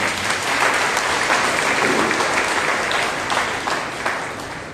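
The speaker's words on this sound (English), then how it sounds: "Let us give a mighty clap to the Lord." A congregation at a Monday prayer meeting claps loudly together, a full, even burst of many hands that holds steady and fades slightly near the end.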